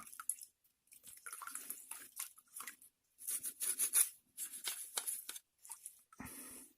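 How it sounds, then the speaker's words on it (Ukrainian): Sony PlayStation One Slim console shell and parts are scrubbed in hot water, giving close, intermittent squishing, sloshing and dripping sounds separated by brief quiet gaps. "Все це очищую мию в гарячій теплій воді."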